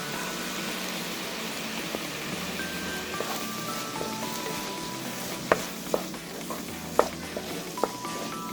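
Curry leaves added to tomatoes sautéing with salt in a pan, a soft continuous sizzle with a few sharp utensil clinks toward the end.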